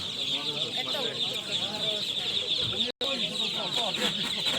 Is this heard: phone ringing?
no